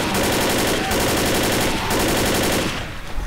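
Sustained rapid automatic gunfire from NPCs shooting at walls in Left 4 Dead, a loud continuous rattle of shots that briefly stutters twice before thinning out at the end.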